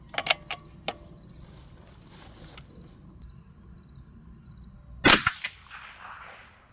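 A 22-250 Ackley Improved rifle fires a 90-grain bullet at a 100-yard target: one sharp loud crack partway through, trailing into a brief echo, preceded by lighter mechanical clicks and quiet outdoor background.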